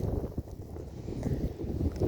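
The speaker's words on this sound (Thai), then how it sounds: "ลม" Steady outdoor wind buffets the microphone in a dry, sunny rural setting, a continuous low rumble with gusts that swell and ease throughout.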